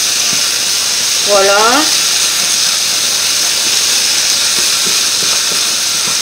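Oil sizzling steadily in a pan while apple blood sausage cooks with Provence herbs, a constant close hiss under a brief spoken word.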